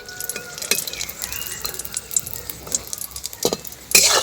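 Kamranga-shaped pitha frying in oil over low heat, giving a soft continuous sizzle broken by occasional scraping and stirring clinks of a utensil against the pan.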